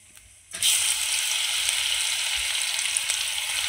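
Chopped green chili and garlic hit hot oil with a sudden loud sizzle that then holds steady as a close, continuous frying hiss.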